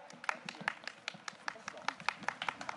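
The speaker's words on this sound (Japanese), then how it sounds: "パラパラの拍手ありがとう" Sparse, scattered clapping from children in the audience at an outdoor summer festival hero show, a few uneven claps over a couple of seconds with faint background chatter.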